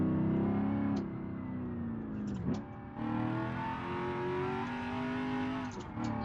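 A Corvette C6 ZR1 engine revs hard in a BeamNG.Drive race, a loud, continuous mechanical roar climbing through the gears with brief dips at each shift, heard alone without talk.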